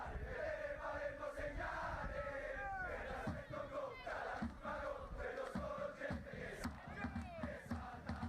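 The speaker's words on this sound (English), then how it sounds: "The fans are cheering, man." A virtual stadium crowd in a Serie A football video game roars and chants with a dense, continuous swell of many voices.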